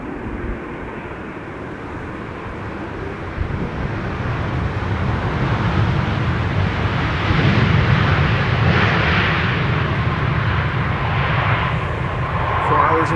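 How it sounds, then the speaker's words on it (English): An El Al Boeing 737-900 from Tel Aviv arrives at Schiphol's runway 27, a broad roaring engine rumble that swells steadily louder as it nears and holds, with a voice talking over it. "El Al, arriving from Tel Aviv, 737-900."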